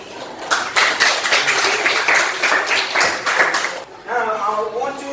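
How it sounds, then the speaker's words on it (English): Students clap in a classroom, a dense burst of applause lasting about four seconds, then fading out as a voice begins speaking over it near the end. "Give applause."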